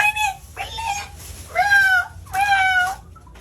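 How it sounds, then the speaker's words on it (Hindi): A cat meowing loudly and close, three to four drawn-out, tonal meows in an even rhythm over low background noise. "कोई नहीं, बिल्ली है।"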